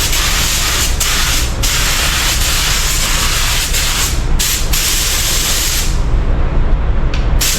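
A paint spray gun lays down base coat in loud, hissing bursts close up, several long sprays separated by brief pauses, with the final pass trailing off near the end.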